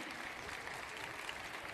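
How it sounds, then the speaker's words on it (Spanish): Faint, distant applause from a crowd at a participatory community meeting in the municipality of Pore, an even wash of clapping heard from afar with no talking on top. "un aplauso para el alcalde"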